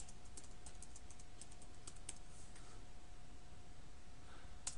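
Commands are typed on a computer keyboard into a Cisco IOS command line, a quiet, steady patter of light key clicks over a faint background hum.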